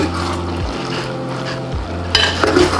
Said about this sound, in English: And the last good stir